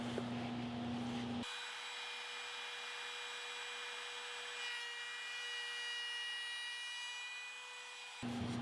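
A router with a bearing trims the waste off a wooden board, a loud continuous high whine with cutting noise that starts abruptly, holds steady for several seconds, then stops.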